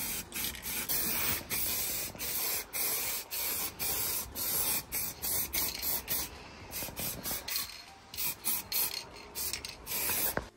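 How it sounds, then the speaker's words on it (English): Primer sprayed from a spray gun onto a fiberglass bumper for a Subaru Impreza, a steady hissing spray broken into many short bursts of a second or less, loud and close, with no talking. "So first of all, we're going to prime it, and then we'll put the actual paint code on."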